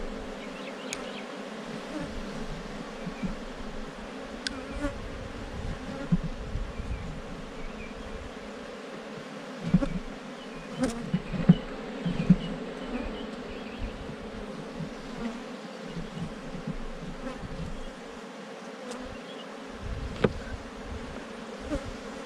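Honeybees swirl around a hive just after a swarm, a dense steady buzz filling the air close by, with occasional louder passes of individual bees and faint handling knocks underneath.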